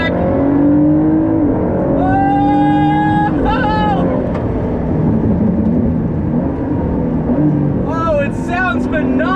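A Ford GT sports car engine accelerates loudly through several gears, its pitch climbing and dropping with each shift, close and continuous.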